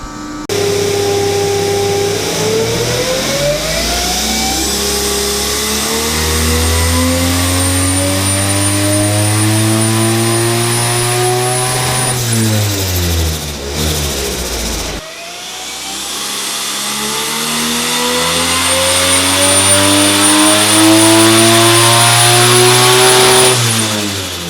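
A 1JZ-GTE turbocharged engine revs hard on a dyno, a loud sustained roar sweeping upward in pitch, dropping back, then climbing again through a second pull with turbo whine on top.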